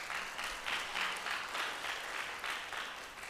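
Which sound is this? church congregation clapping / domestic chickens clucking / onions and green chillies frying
church congregation clapping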